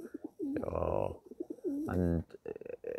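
Several pet pigeons or doves coo in soft, rolling phrases close by, with one call overlapping the next, in a small indoor flock at night.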